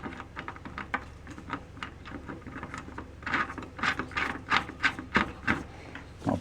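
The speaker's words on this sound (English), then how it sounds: "I'll go ahead and tighten it up a little bit." A bolt being tightened on a vintage 1950s–60s Gretsch bass drum rail consolette, heard as close, repeated metallic rubbing and ratcheting scrapes in short rhythmic strokes that grow louder and quicker toward the end.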